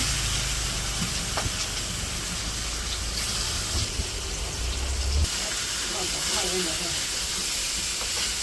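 Fish pieces fry in hot oil in a wok in a village kitchen, giving a loud, continuous, steam-like hiss throughout, with voices faintly present underneath.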